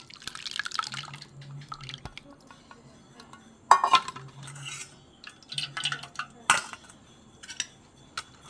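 Raw green mango mixture stirred and pressed through a large strainer for mango ice cream: soft wet drips and scraping, with intermittent clinks of a utensil against the strainer and bowl, moderately close.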